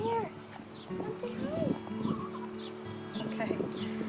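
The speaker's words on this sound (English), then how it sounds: "She's a little baby hen." A young hen clucks softly in short bursts near the microphone while a person talks over her, with other farm-animal sounds faint in the background.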